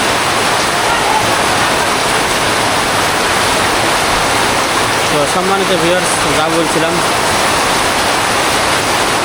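Heavy downpour drumming on a house roof at night, a loud, steady broadband wash throughout, with someone talking over it midway.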